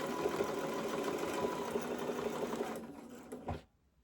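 A domestic sewing machine runs a steady straight stitch across a fabric patch, its rapid even whirring close and alone, then slowing to a stop near the end.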